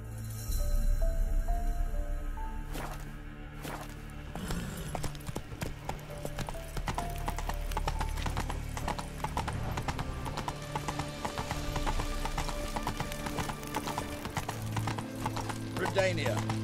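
Geralt's horse Roach in The Witcher 3 galloping, rapid rhythmic hoof clip-clop running nearly throughout over game music, with a brief snort near the end.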